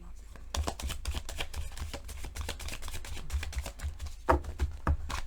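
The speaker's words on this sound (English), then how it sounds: "Good shuffle is always advisable." Tarot cards being shuffled close by, a quick run of soft papery flicks and taps in irregular bursts, fairly quiet.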